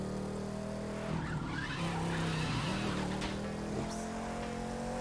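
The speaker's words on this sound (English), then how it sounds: "Starts spinning its tires in over 120 miles per hour." A car in the racing game The Crew 2 spins its tires at over 120 mph, a loud steady engine roar overlaid with sustained tire squeal and skidding that swells and wavers throughout, with no talking.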